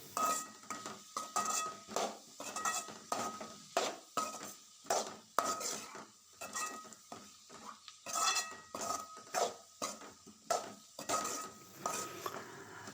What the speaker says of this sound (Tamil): ரெண்டும் ஆட் பண்ணி நல்லா வந்து மிக்ஸ் பண்ணுறோம்.